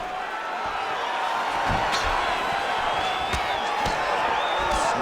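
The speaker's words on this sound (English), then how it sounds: "that punch elicited a reaction from the crowd" Arena crowd noise in the EA Sports UFC 5 fighting game swells into a loud, sustained roar of reaction after a punch, with a few sharp impact thuds cutting through the steady cheering.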